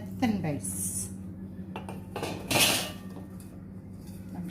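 Metal pizza pans clatter and clink as they are handled in a home kitchen, with a few sharp knocks and scrapes close by, while a voice talks in the background.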